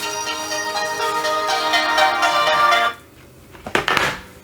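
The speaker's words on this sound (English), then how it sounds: "phone's calling" A phone ringtone plays loudly for about three seconds as a bright, sustained electronic melody, then cuts off, followed by a brief knock or handling noise.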